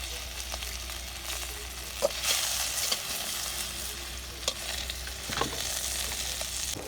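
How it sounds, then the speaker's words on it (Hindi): Raw mango frying in a pan with curd for a Chhattisgarhi sabzi, giving a steady close sizzle with a few soft clinks of stirring. "एला बढ़िया से भून लेबो आमा ला हमन"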